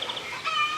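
Chickens cackle in a short, bright burst of clucking calls, heard clearly and alone with no talking.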